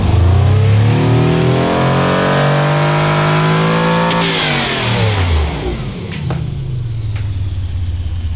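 In the Automation game, an engine revs up to 7300 RPM with a loud, sustained harmonic roar whose pitch rises gradually. It then drops away into a lower, steadier engine drone, with no voices over it.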